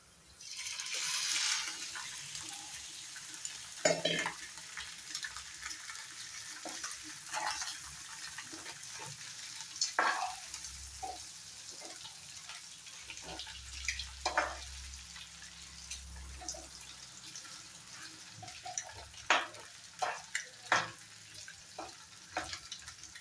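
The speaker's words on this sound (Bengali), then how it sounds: "ডিমটা খুব বেশি সময় ফ্রাই করতে লাগবে না" Quartered egg pieces fry in a pan for fried rice, a faint steady sizzle under occasional clinks and scrapes of a utensil, with a few brief spots of low talk partway through.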